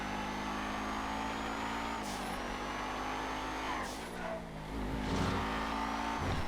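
A Rapid GT sports car driven in GTA FiveM roars steadily with engine drone, shifting gears around two and four seconds with brief pitch changes and a tire squeal, no talking.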